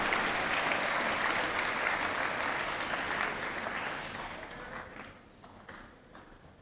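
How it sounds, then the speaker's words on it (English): An audience at a Dr. Martin Luther King Jr. award ceremony applauds a poet coming up to read, a dense, steady wash of clapping that gradually fades and thins out toward the end. "Let's give a round of applause to Aaron Anderson as he comes up to present us with a poem."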